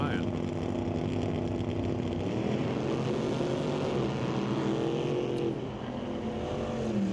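A Corvette and a Chevrolet S10 drag racing down the strip at an NHRA Northwest National Open event, their engines roaring steadily in the distance under an announcer's commentary.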